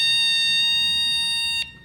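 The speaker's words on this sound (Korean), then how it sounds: "이렇게 경보음이 울리는 것을 볼 수가 있습니다" Electronic alarm buzzer on a snap-together kit circuit, a steady piercing tone with a stack of harmonics held for nearly two seconds, loud and close, cutting off abruptly near the end.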